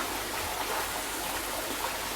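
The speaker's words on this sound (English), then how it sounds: "Just going to give this a bottom drain a quick flushing through now as well." Water rushes through the bottom drain of a 3400-gallon koi pond as it is flushed, a steady, loud, hissing gush that holds an even level throughout with no voices.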